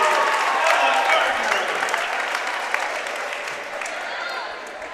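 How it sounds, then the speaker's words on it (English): A basketball crowd at a girls and boys championship game gives a standing ovation, steady loud applause and cheering that fades slightly toward the end, with an announcer's voice faintly underneath. "To a standing ovation by the Wildcat crowd."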